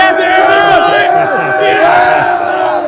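Crowd of fans chanting and cheering in a gym at a girls high school volleyball match, a loud, sustained roar of many voices rising and falling together.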